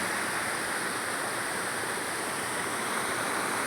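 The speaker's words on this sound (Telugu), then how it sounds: "చూడండి వాటర్ ఫాల్ అయితే ఎంత బాగుంది" A hillside waterfall on a trek to Junumulu hill roars as a constant, dense rush of falling water, loud and unbroken throughout with no voices.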